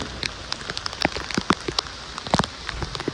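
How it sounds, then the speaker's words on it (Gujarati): Heavy rain pattering on a hard surface during Navratri, with scattered loud drops landing close by over steady, dense background patter. "આજની છાવકલામાં પણ વરસાદે ભૂકા કાઢ નાખ્યો"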